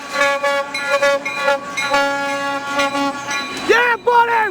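Multi-tone horn of an ex-Conrail SD60M locomotive leading a Norfolk Southern train, blasting loud and near in long sustained chords with a falling bend at the end, while people cheer over it.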